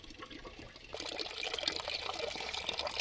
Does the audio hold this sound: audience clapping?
no